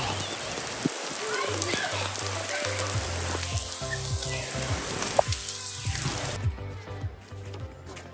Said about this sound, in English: Ezra was loving the hike, even when we got soaking wet with rain at Smoky Mountain.